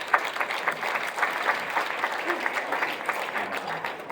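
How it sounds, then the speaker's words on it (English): Steady audience applause at a county commission candidate forum, a dense, even patter of clapping throughout with no clear voices on top. "Can we give him a round of applause?"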